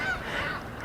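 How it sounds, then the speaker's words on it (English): Goose-like birds honk continuously in the background by a lakeshore setting, a dense, steady chorus of overlapping calls at moderate distance with no talk. "If you're listening to the birds in the background, sounds almost like I'm at the lakeshore."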